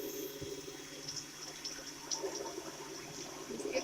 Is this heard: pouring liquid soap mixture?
yes